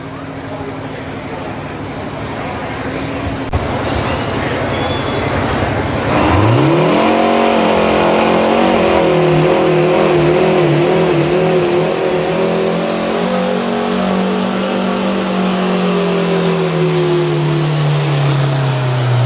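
A loud Detroit diesel engine on a modified pulling tractor at a county fair tractor pull roars and revs up, its pitch climbing then slowly falling as it holds a heavy, throaty drone.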